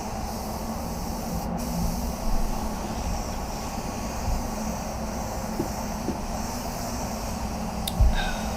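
A paint spray gun at low pressure, about 1 bar, coats a Mercedes-Benz E350 body panel with a constant broadband hiss that carries through the whole clip, broken only by faint knocks.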